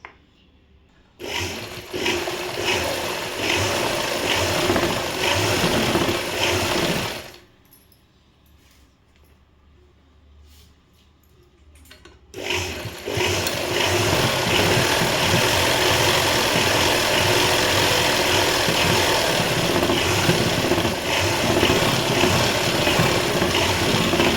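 A home sewing machine stitches an overlock-style edge on fabric, running loud and steady. The motor stops for about five seconds partway through, then hums back up and keeps going.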